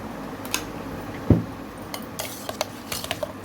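Gentle clinks and one sharper knock of a spoon against a bowl while black grapes and pomegranate are folded into curd rice, sparse and close, otherwise quiet.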